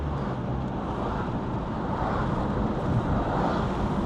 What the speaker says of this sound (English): I am flooring it, and this is the fastest it'll go.